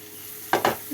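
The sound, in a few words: carrots and capsicum sautéing with onions in a pan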